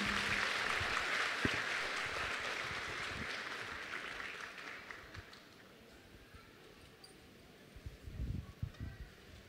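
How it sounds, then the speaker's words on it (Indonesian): Audience applause welcoming speakers at a Buddhist Dhamma talk event, a broad clapping wash that fades over several seconds, followed by softer crowd movement and a few brief louder bumps near the end. "Kita sambut dengan tepuk tangan."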